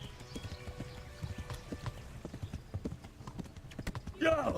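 Hooves clip-clop quickly and continuously as a horse is ridden in Kingdom Come: Deliverance, fairly close, with a brief louder burst of sound near the end.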